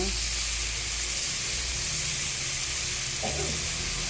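Ham sizzles loudly alongside sautéed onions in a pan for a mixed vegetable dish, a steady close frying hiss with a brief stir near the end.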